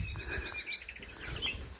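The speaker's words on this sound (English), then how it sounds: "oh okay, that's a blackbird" A blackbird sings in short, high whistled phrases beside a river walk in Avondale, County Wicklow, faint and somewhat distant over low rustling and ambient noise.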